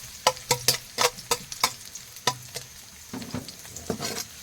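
Garlic sautéing in a pan for a pechay dish: a spatula scrapes and taps the pan in a quick irregular rhythm over a soft sizzle, close and clear.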